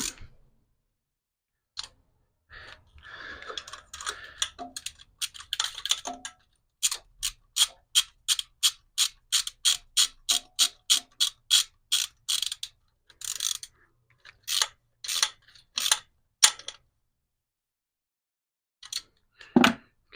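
Ratchet wrench with a 12 mm socket tightening bolts on a Lexus IS300 engine during throttle repair; a long run of fast, crisp, evenly spaced clicks in bursts, close and fairly loud, with brief pauses between runs.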